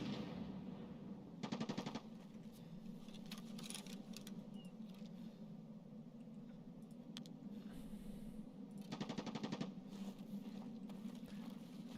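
Distant automatic gunfire from the Goons in the Escape from Tarkov video game crackles in two short bursts, faint and far off over a low steady ambient hum, with a few isolated pops between.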